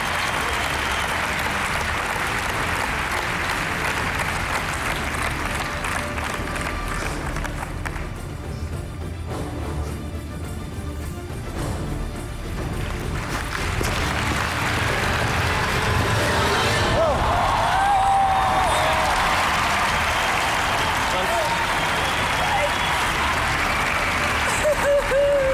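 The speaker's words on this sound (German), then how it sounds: "Großer Applaus." A large studio audience at a German Saturday-night TV show applauds continuously, a broad sustained wash of clapping that dips briefly midway and swells again, with a voice occasionally talking over it.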